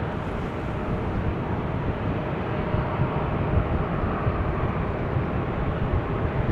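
An Air France Bombardier C-Series 300 takes off at Amsterdam Schiphol Airport, a steady, broad jet roar that holds at an even level from start to finish with no voices.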